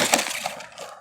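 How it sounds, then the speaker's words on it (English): An ARRMA Granite Voltage 2WD RC monster truck crashes outdoors, a brief, close clatter of plastic impacts with a couple of sharp knocks in about a second. "First crash."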